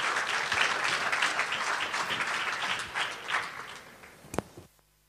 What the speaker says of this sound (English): please support this team with a very, very